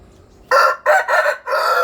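A rooster, a fighting cock, crows once nearby, a loud, clear cock-a-doodle-doo broken into several stretched syllables over a quiet background.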